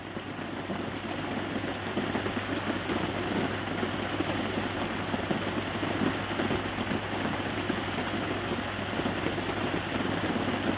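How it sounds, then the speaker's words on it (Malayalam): Heavy rain pouring outside during the monsoon season, a dense, even roar of falling water with a constant low hum underneath and no talk. "പുറത്ത് ഗംഭീര മഴ പെയ്തുകൊണ്ടിരിക്കുന്നു."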